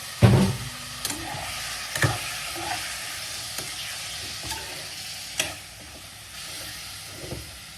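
Chicken pieces sizzle and fry in a hot pan on a home stove, with a steady crackling hiss broken by repeated sharp scrapes and clinks of a utensil stirring about once a second.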